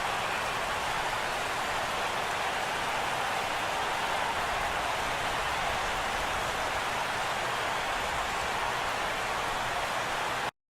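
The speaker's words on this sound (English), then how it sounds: "Rain falling here in the tri-state area as we close in on game time at Yankee Stadium" Rain falling on the stadium in the baseball video game MLB The Show 17, a dense, even hiss of steady rainfall that continues unbroken and close for the whole stretch before cutting off abruptly.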